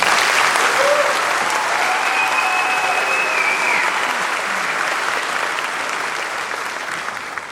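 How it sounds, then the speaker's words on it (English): Sustained applause from a crowd at the Weatherford College afternoon commencement ceremony in 2016: dense, continuous clapping that fills the hall and eases off slightly toward the end, with no speech over it. "So please give them another round of applause."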